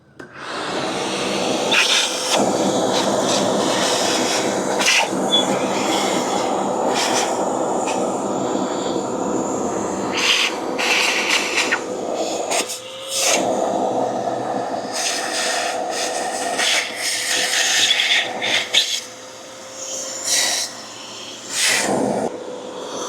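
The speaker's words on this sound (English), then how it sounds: "So I got that all vacuumed down." A vacuum cleaner sucks debris out of an engine, a loud continuous whooshing drone up close with rattling clatter and shifting pitch as the nozzle moves.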